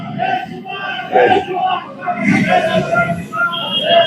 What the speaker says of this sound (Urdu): نعرے لگ رہے ہوتے ہیں